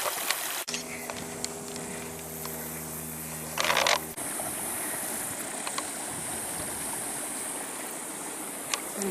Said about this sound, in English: these streams have a lot of iron in them